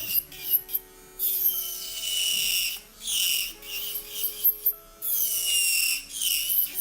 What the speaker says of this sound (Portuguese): Vou trabalhar a parte interna da minha estrutura com a minha broca paralela à minha estrutura.